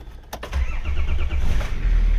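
Diesel right-hand-drive Nissan Patrol engine starts with a short cranking whirr and catches quickly, settling into a low steady idle rumble, close by with no talk.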